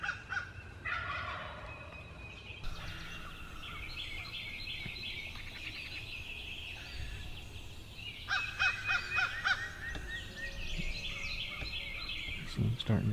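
Wild turkey jakes gobble repeatedly during a hunt, with a strutting tom nearby; the calls come in clusters at moderate distance over steady outdoor rustle and background noise.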